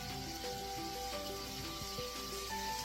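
Homemade sausage browning in a pan for gravy gives a steady, even sizzle throughout, heard beneath background music.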